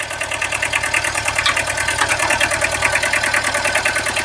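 Kubota B7000 tractor with a rotary tiller, its small engine running steadily with the PTO engaged, a loud, close, fast rhythmic chugging and knocking with no pause.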